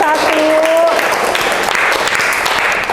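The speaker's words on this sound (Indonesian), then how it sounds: "kita beri tepuk tangan dulu untuk kelompok 1." Classroom students clapping for a presenting group at a midwifery lesson, close, steady applause throughout, with a brief voice tone at the start.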